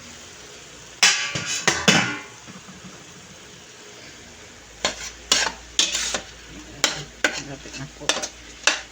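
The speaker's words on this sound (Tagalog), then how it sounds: "Medyo i-brown lang po natin yung bawang o yung giniling" Garlic and ground meat browning in a pan for picadillo, with a steady sizzle under repeated sharp scrapes and clanks of a utensil against the pan in irregular bursts, and a brief spoken phrase early on.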